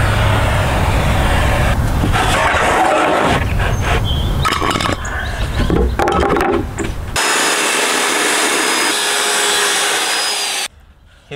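A power saw cuts a one-by-two-foot wooden dresser side piece from leftover lumber. It is a loud, steady, close roar that shifts in tone as the blade works through, then cuts off abruptly near the end.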